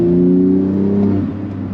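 A modified BMW G80 engine drones loudly and steadily from inside the car while driving, a deep, even tone that eases off slightly toward the end.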